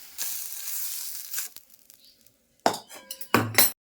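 A cooking pot clatters as it is lifted off a home stove after making a lunch of greens and taro, with a brief sizzle fading first, then sharp metallic clinks and scraping bursts close by, with no talk.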